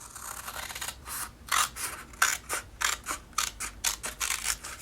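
Scissors trimming a cardboard pie box, a series of sharp crisp snips and slicing crunches in an irregular rhythm, close and fairly quiet, with no talking.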